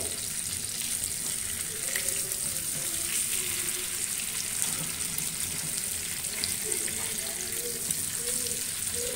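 Rock fish fries in ghee in a pan over a medium flame, giving a steady, fairly faint crackling sizzle that continues evenly throughout with no pauses.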